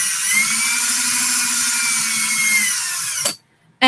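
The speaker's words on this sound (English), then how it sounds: "And then you just start drilling." Power drill whirring at a steady high pitch for about three seconds, close and loud, then stopping abruptly before a brief restart at the very end.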